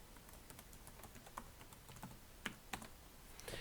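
Quiet, rapid keystrokes on a computer keyboard as a password is entered, with a few sharper key presses near the end and no talking.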